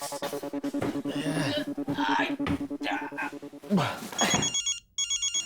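A mobile phone rings in a repeating electronic pattern through a crowded scene, with people talking loudly over it before it cuts off near the end.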